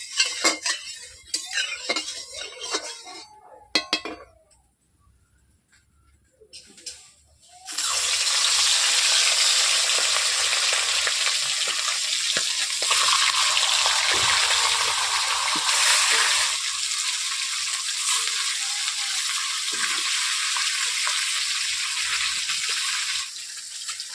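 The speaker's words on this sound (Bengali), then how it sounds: "এখন আমি ভেজে নেব মাছগুলোকে।" Turmeric-salted fish goes into hot oil in a wok: first a few clinks and clatters of utensils, a brief quiet, then a loud, steady, close sizzle of frying that runs to the end.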